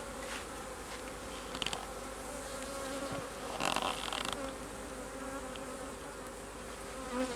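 Honeybees buzz steadily around an open hive while a super is being added, a dense continuous hum with a few louder passes of single bees close by.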